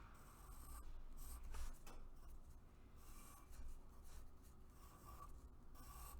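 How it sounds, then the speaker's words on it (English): A pencil scratches and rubs across paper in short, close strokes with brief pauses between them, quiet and without any talk. "I'm going to draw this with pencil first"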